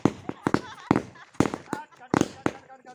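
Firecrackers bursting after Diwali, repeated sharp pops spaced irregularly through the moment, close and fairly loud, with voices talking over and between the bursts.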